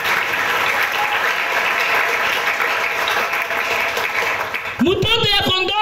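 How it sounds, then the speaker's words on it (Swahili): A church congregation claps in praise of Jesus during a prayer and fasting service. The dense applause holds steady for several seconds, then a preacher's voice breaks in near the end. "Chapia Yesu makofi."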